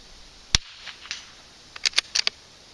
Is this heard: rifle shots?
yes